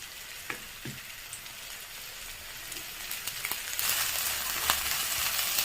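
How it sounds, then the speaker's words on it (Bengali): Chopped ginger and green chili frying in oil with asafoetida, giving a soft, continuous sizzle with occasional light stirring scrapes; the hiss swells louder toward the end. "নেড়েচেড়ে একটু ভেজে নেবো ভালো করে"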